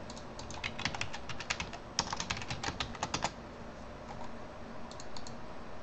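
Fingers tapping out a password on a computer keyboard, a rapid run of crisp close key clicks in quick bursts with short pauses, then a few scattered final taps.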